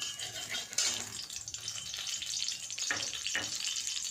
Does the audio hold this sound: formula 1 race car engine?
no